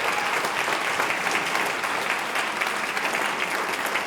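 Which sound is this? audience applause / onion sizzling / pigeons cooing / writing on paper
audience applause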